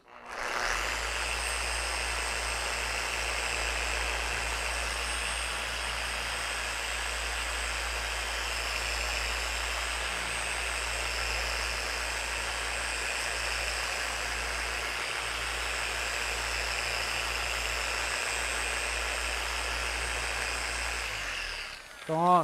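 Car polishing machine running at low speed with light pressure, a steady whirring drone that holds constant for over twenty seconds before cutting off, close and fairly loud.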